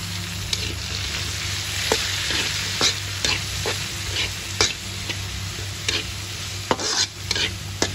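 Onions with chili fry in a pan for chicken kaldereta, a steady low sizzle broken by frequent sharp scrapes and knocks of a utensil stirring against the pan.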